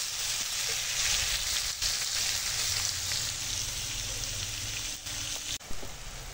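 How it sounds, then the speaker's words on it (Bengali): Steady, close sizzling of onions frying in hot oil, a dense crackling hiss that continues without pause and briefly dips near the end. "আর ওই তেলে পেঁয়াজ দিয়ে দিয়েছি, এবার পেঁয়াজটা ভেজে নেব"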